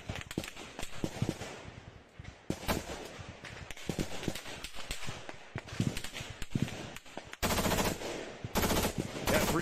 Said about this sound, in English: he's doing single shot, but then to empty his mag, he switches to full auto real quick